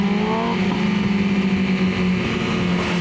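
A 2025 BMW S1000RR sport motorcycle engine, still being broken in, revs hard and accelerates from a standstill up close, a loud sustained buzzing drone with rising pitch.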